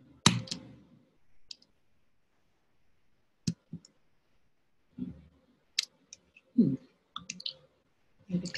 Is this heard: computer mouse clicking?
yes